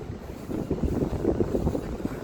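Strong wind buffets the microphone in a continuous low roar with gusty swells, loud and close, with no voices.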